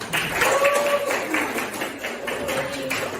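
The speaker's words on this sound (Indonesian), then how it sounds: "Tepuk tangannya dulu dong." Classroom applause for a student group after their presentation, a steady wash of many hands clapping at moderate level with voices talking over it.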